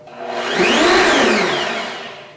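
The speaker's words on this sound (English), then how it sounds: "And it says to just blend for 3 seconds." A kitchen blender mixing homemade raw milk baby formula whirs loudly and steadily for about two seconds, rising quickly and tapering off at the end, with no talking.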